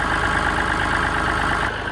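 A Massey Ferguson 135 tractor's engine idles nearby, a loud, even low rumble with steady knocking pulses throughout, dropping slightly at the end.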